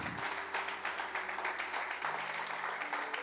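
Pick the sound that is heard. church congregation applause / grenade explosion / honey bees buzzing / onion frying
church congregation applause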